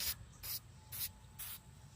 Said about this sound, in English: What I'm going to do is lightly just kind of spray across the pleats